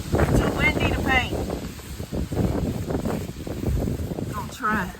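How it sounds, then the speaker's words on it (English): Strong wind gusting outdoors at a tiny house expansion build site, a steady loud rush buffeting the microphone throughout while a person speaks over it. "too windy to paint."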